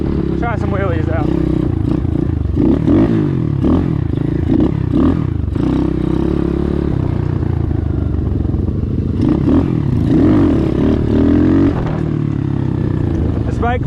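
An Apollo Z20 pit bike revs and bogs through repeated throttle bursts in second gear, its engine loud and close with clattering from the chassis, steady throughout.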